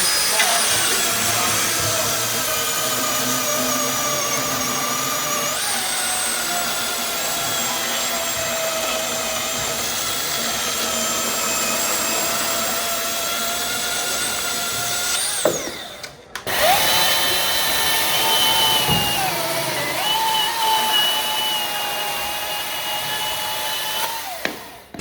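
A Milwaukee cordless chainsaw running at a tool launch event, a steady high motor whine held loud and close, briefly cutting out and restarting before running on, with faint talk behind.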